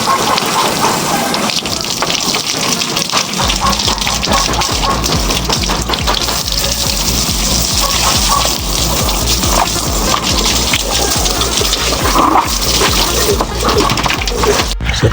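Steady, loud rush of water sprayed at a vehicle brake drum to blast off caked mud, continuing without a break for the whole stretch.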